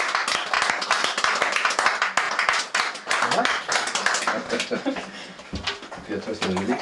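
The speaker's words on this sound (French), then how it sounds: "Acclamons pour le Seigneur." A church congregation at a baptism claps in praise, a dense, loud run of hand claps that holds steady and thins briefly, mixed with voices talking and calling out.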